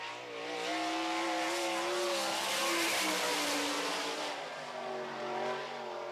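Dale Blaney's No. 2 sprint car on a qualifying lap at UNOH time trials, a loud high-revving engine roaring past with a sweeping pitch shift, engine note rising and falling as it circles the oval.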